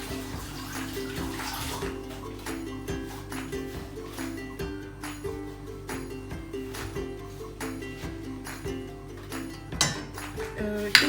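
Hands are washed under a running kitchen tap while making a crispy lemon-filled flatbread, with water splashing steadily and unevenly up close and occasional light clinks.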